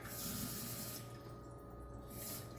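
Water pours into a pan in a steady hiss for about a second, stops, then briefly resumes, quiet and close.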